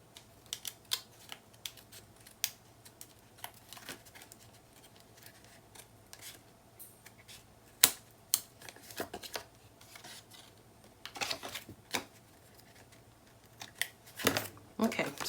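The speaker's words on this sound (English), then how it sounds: "I'm just going to trim off those edges and ink them" Paper edges being trimmed for a Graphic 45 Christmas scrapbook mini album cover, producing scattered crisp snips and rustles that come and go, with a louder burst near the end and someone talking softly throughout.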